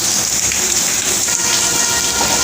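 Heavy rain pouring in Karachi, a dense, constant hiss of water falling on surfaces, loud and unbroken with no voices.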